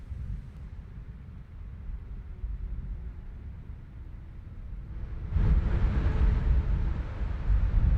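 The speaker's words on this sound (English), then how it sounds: "it's mostly wind sounds" Steady wind blows through an outdoor field recording as a continuous low rumble that swells louder about halfway through, with no voices present.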